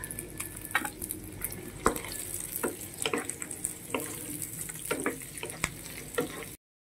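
Tofu is stirred in a frying pan while it sizzles, in a Filipino sizzling dish with balut. Scraping spatula strokes and soft clatters come at irregular intervals over a steady, moderate frying hiss, with no voices.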